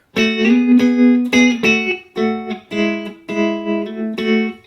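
An electric guitar played through a dry tremolo effect alone: loud, distorted sustained chords pulsing in regular rhythmic swells, with brief gaps between strums and no talk.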